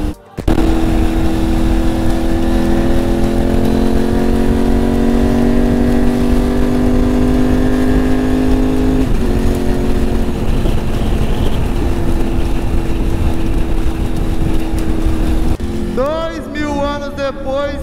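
A single motorcycle rides along steadily, its engine droning loud and close with wind rush, the pitch holding and then shifting as it changes speed, while a rider's voice breaks in near the end.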